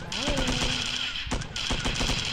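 Gunfire in a shooting video game comes as rapid automatic bursts of sharp shots, close and loud, with a brief pause partway through before the firing resumes.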